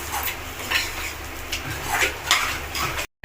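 Onions sizzle gently in a pan for egg masala while a utensil steadily scrapes and clinks against the metal as they are stirred.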